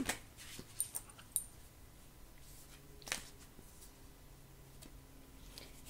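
Soft papery shuffling of tarot cards in short bursts, with light taps and rustles over a quiet background.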